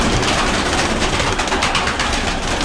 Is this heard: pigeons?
yes